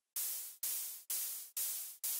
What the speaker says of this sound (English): Add a white noise ride to your kick.